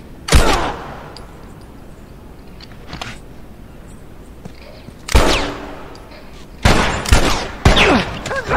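Video game gunfire: sharp close shots, a single crack, then a few scattered bursts over a steady background of game noise, with no talk over the shots.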